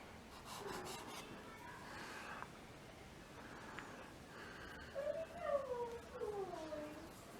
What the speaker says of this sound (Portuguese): Brincando com a Luna, nossa cachorrinha